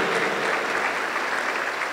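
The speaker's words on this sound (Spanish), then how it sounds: "Aplausos para el Señor Jesús." A congregation applauding inside a Pentecostal church in Huancayo, a dense, even clapping that fills the space steadily and loudly from start to finish with no voices.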